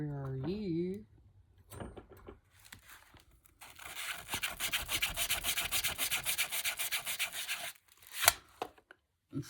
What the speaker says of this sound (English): And then I'll take my sander.